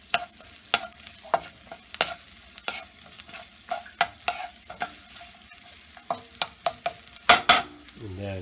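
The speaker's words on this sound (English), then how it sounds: "we're going to saute the shallots in the olive oil for a minute, not for too long" Shallots sautéing in olive oil in a pan, a low sizzle under a run of sharp, evenly paced spatula clacks and scrapes, close by, with a faster burst of knocks near the end and no speech.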